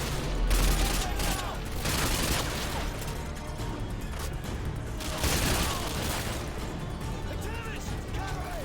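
Rifle gunfire in the video game Call of Duty Modern Warfare 2, repeated sharp shots and bursts at moderate loudness amid battle clatter, with voices talking over it.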